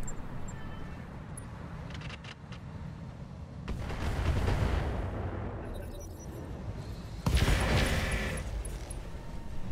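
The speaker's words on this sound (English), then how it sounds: "at least the two turrets are doing some good work" Turrets firing in the video game Roguetech, a BattleTech mod, producing a rolling, muffled boom of heavy gunfire that swells midway through and is followed by a second sharp burst. Faint mechanical clicks sit under the fire.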